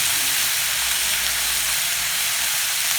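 Chopped tomato and turmeric sauté in a hot pan, giving a loud, steady, close sizzle and hiss with no break.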